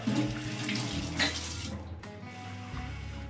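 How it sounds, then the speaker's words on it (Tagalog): Water pours steadily into a cooking pot of gourami fish stew, a continuous near splashing trickle that runs for a few seconds with no talk. "dagdagan natin ng konting tubig"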